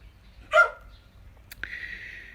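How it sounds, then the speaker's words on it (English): A single dog gives one sharp bark close by, followed by a sustained higher whine or tone, with a quiet room behind it. "She likes to bark, but I'm sure she's going to want to go out too."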